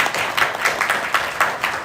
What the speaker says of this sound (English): give yourselves a round of applause, because hell yeah